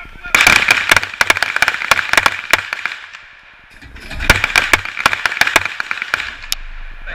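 Pistol shots ring out during a police firearms qualification course, sharp cracks in rapid clusters with a brief lull midway, loud and close against a steady background hum.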